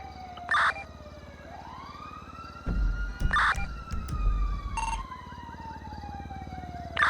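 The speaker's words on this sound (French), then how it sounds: "Ouais, les sirènes ne sont pas loin, hein." Police sirens in a jewelry store heist game scene wail continuously, rising and falling, while sharp short bursts and a rumbling low thud break in over them.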